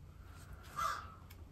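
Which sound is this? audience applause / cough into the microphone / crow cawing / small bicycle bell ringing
crow cawing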